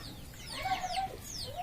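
Free-range native country hens cluck nearby in a short burst of rising, chattering calls, fairly quiet with no voices.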